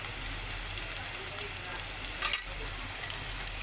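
Ingredients roasting in a pan for Mysore pulao, a soft continuous sizzle near the cook with one brief louder scrape or hiss of stirring partway through, fairly quiet and free of talk.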